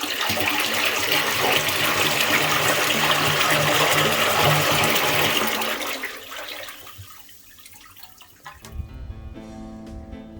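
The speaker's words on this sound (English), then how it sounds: "Now we have a really great little toilet that we can flush." A newly installed toilet in a guest bathroom flushes with a loud, rushing swirl of water that drains away after several seconds, followed by quieter trickling and refilling from the new supply line.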